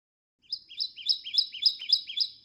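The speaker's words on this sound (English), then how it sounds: "Kentucky warbler." A Kentucky warbler sings a clear, rolling phrase of about seven repeated two-part notes in quick, even rhythm, bright and fairly close after a brief silence.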